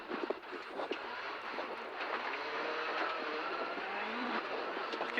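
A Skoda Fabia R5 rally car at speed on a stage of the Rallye du Condroz, a steady high engine roar held near and loud for several seconds with faint gear shifts, no voices.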